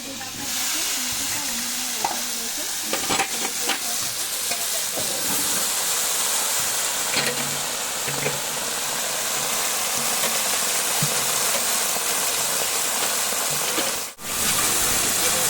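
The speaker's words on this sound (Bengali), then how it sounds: "এবার কড়াইতে দিয়ে দিচ্ছি ফোড়ন, শুকনো লঙ্কা এবং পাঁচফোড়ন। এরপরেই দিয়ে দিচ্ছি সমস্ত সবজিগুলো।" Steady loud sizzle of mixed vegetables frying in a wok with dry red chilies and panch phoron, continuous close crackle with occasional stirring scrapes throughout.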